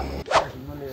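A small female dog gives one short, sharp bark up close on a mountain trail, brief and abrupt against low background noise.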